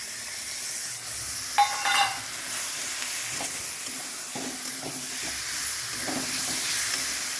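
Chitol fish curry is stirred in a frying pan, with a steady soft sizzle and hiss throughout, a few brief scraping and clinking stirs of the spoon against the pan, and a short sharper metallic clatter near the start.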